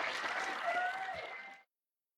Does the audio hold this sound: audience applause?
yes